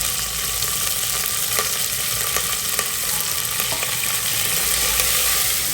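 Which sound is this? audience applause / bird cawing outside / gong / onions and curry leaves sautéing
onions and curry leaves sautéing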